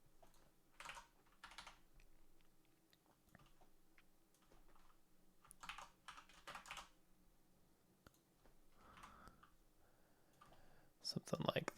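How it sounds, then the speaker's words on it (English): Keyboard keys clicked in short, uneven bursts of typing at close range, with some quiet gaps and a louder clatter at the end. "Typing, guys. It's hard."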